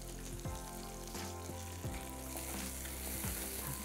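Chopped onions sizzle and fry in a pan, a steady crackling hiss with a few scraping stirs at regular intervals, close but fairly quiet, with no voices.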